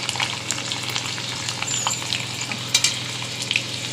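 Ginger and garlic cloves fry in a hot pan in steady close sizzling, with brief crackles and a few sharper spits and stirring clicks near the end, no voices.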